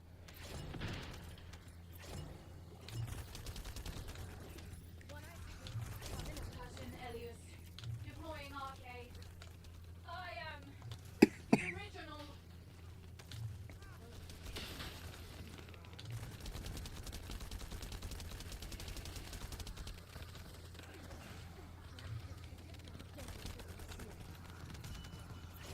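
Automatic weapon fire in the shooter game The First Descendant, rapid bursts of gunshots rattling on and off at moderate distance, under ongoing talk, with a couple of sharper louder impacts midway.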